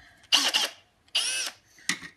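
A drill bores into a peened-over steel pin on a portable promotional banner being scrapped for aluminium, three short whining bursts separated by pauses, the motor spinning up and cutting off each time.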